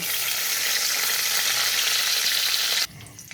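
Cashews fry with cinnamon and cardamom in hot oil and ghee, a dense, even hiss that holds steady for nearly three seconds before cutting off abruptly.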